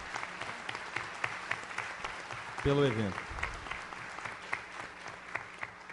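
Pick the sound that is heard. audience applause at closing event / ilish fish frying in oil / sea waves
audience applause at closing event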